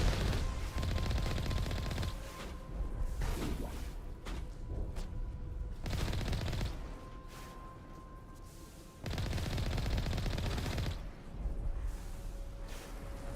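Sustained gunfire in the Mass Effect Legendary Edition video game, loud, rapid automatic bursts in long strings separated by brief lulls, with heavy low thumps beneath the shots and no voices.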